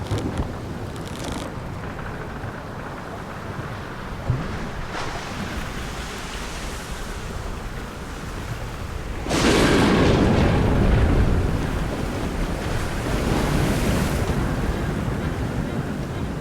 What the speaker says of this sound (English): In the night, there were really high waves.